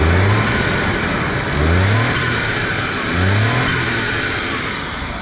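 Suzuki Jimny turbo engine with the blow-off valve removed, revved three times in close succession, each rise loud and near with turbo whoosh and flutter as the revs drop, no talking.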